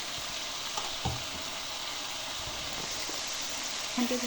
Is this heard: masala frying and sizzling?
yes